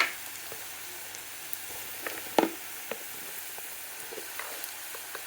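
Onions frying in a pan give off a quiet, steady sizzle, broken by a few soft clicks and stirring taps, with one sharper scrape near the middle.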